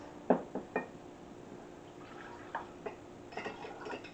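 Papaya orange drink is poured from one container into a big mug: a few sharp clinks of glassware near the start, then quiet trickling liquid and light knocks, close and fairly faint.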